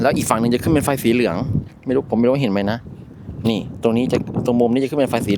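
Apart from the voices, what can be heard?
No everyday noises stand out.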